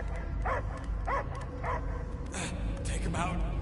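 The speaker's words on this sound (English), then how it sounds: "I hear only barking" A dog gives a few short barks and yips, spaced apart and fairly close, with a voice speaking alongside them.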